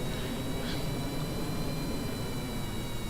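Rocket engine at full throttle in Kerbal Space Program, a steady, loud broadband roar with no breaks, like a continuous close hiss and rumble.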